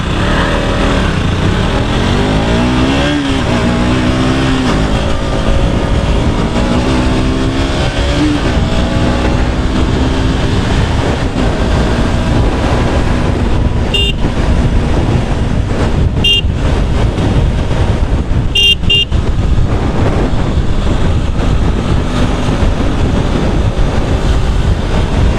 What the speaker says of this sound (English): throttle response is something else on this motorcycle, man.